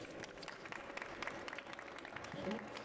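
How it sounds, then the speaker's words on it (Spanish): Faint applause from a crowd patters along with scattered claps, while a voice speaks softly underneath. "un aplauso para Rubén Mira."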